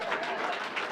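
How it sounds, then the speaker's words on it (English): Audience applause fills a hall at a charity awards ceremony, a steady wash of many hands clapping throughout the short stretch, fairly loud and continuous with no break. "You got to clap louder than that, people."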